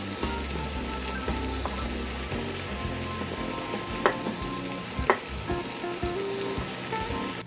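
Beef sizzles steadily in a pan for a European beef curry, with intermittent stirring scrapes and a couple of sharper utensil knocks against the pan over the continuous frying hiss.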